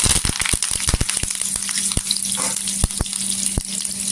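Fresh curry leaves crackle and sizzle in hot oil with mustard seeds and cumin, a steady frying hiss punctuated by sharp pops and spits at an irregular rhythm, close and fairly loud with no talking.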